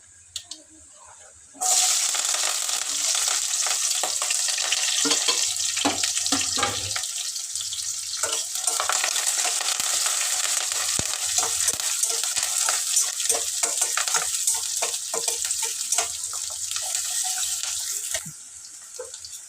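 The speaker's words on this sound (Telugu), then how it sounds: "ఇట్లా బాగా అంత ఎర్రగా లేకుండా ఇట్లా వేయించాలి ఉల్లిగడ్డ" Onions, green chillies, curry leaves and ginger fry in oil with cumin and mustard seeds, making a loud, continuous close sizzle that starts abruptly and runs for most of the clip before dropping away, with scattered stirring clicks throughout.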